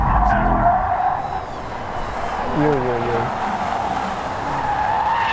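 A 2024 BMW M5 Touring slides its rear end on a race track, tires squealing in rising and falling wails over engine noise, while people talk briefly in the car.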